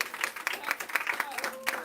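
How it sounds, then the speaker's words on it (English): An audience applauds a debut novelist on stage, a short burst of scattered, uneven clapping with a voice talking over it. "To give her a round of applause"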